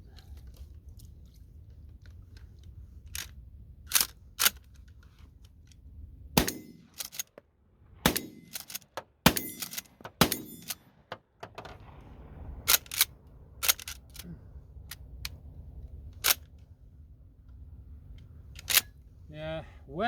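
Sharp, scattered shotgun reports and clicks of pump action on a Mossberg fitted with a wet forend, the loud transients spaced irregularly over a quiet outdoor background.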